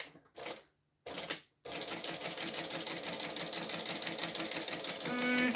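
A home sewing machine with a bobbin fault runs in two short bursts separated by pauses, then settles into a continuous, busy mechanical whirr and clatter that grows a little louder toward the end.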